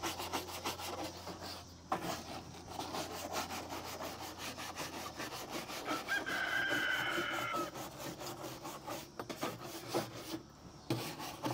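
A hard-bristle brush scrubs steadily with quick, rasping back-and-forth strokes that run nearly the whole time, loud and close, with no talking.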